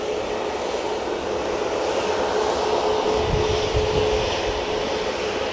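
A Ryanair Boeing 737 MAX 8 jet takes off at Manchester Airport, a loud sustained broadband engine roar with a low rumble building midway, heard outdoors with no talk.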